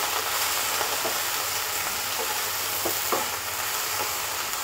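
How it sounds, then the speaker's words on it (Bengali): Turmeric powder being stirred and fried in a pan while making a Bengali brinjal fish curry, a steady broadband sizzle with soft scraping stirs throughout, no talk. "এটাকে আমি এখন একটু হালকা নেড়ে চেড়ে ভেজে নিচ্ছি।"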